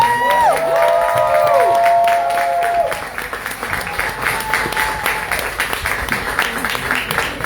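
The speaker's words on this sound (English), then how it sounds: "so that we can please give you your hand claps" Audience at a Miami Gardens political forum applauds the candidates as they stand, a loud, dense burst of clapping and cheers that eases into steadier, quieter clapping with some voices in the crowd.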